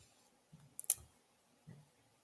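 A computer mouse clicks on a chat topic in a web page: a quick, faint cluster of two or three sharp clicks, with soft thumps before and after in an otherwise quiet room.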